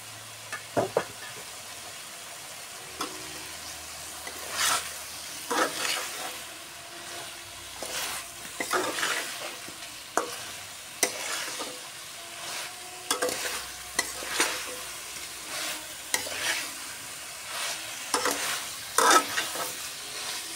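Lentil fritters with potato and yam frying in a pan, a steady close sizzle broken by repeated scraping stirs of a spatula throughout, no voices.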